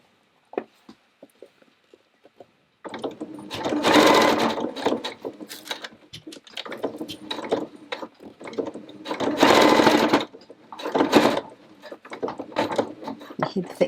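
A sewing machine stitches through a thick, interfaced face mask seam in several loud bursts of rapid needle thumping, with a voice talking in between runs.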